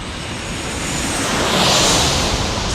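A Southwest Airlines jet passes at San Diego's airport, its loud, broad engine roar swelling and holding steady close by, with no voices.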